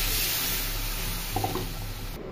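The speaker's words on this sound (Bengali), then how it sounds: "ঝোলে পানি দিয়ে দিলাম।" Water poured into a pan of simmering chicken curry gives a steady, close wash of liquid noise that runs throughout, ending abruptly near the close.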